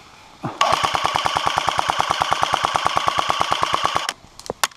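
Airsoft guns in an outdoor skirmish laying down suppressive fire, a loud, rapid string of about thirty evenly spaced shots lasting several seconds, followed by a few scattered single shots.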